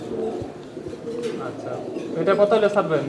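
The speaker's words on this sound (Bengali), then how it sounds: "এরা ম্যাকপাই পোটার রানিং পেয়ার" Magpie Pouter pigeons, a running pair, coo softly in repeated throaty phrases, growing fuller and louder toward the end, with light background noise and chatter nearby.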